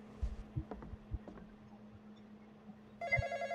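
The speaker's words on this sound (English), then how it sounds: "The phone will occasionally ring." Faint thuds and steady hum, then a bright electronic telephone ring starts up near the end, repeating in quick pulses, in a Roblox horror game, The Intruder.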